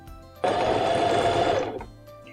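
A sewing machine runs in one steady burst of about a second, stitching the shortened hem of a pair of jeans, close and clear with a quiet pause before and after.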